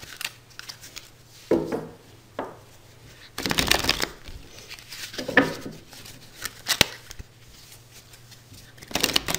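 Tarot cards are shuffled and drawn in several short bursts of papery riffling and flicking, close and moderately loud, with pauses between them.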